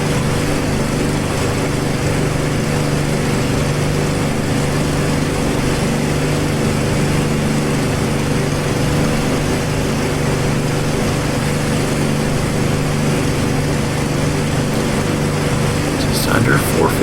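A WWII warbird propeller plane in DCS World flying at high speed without MW50 boost, its engine a loud, constant droning roar throughout with no letup.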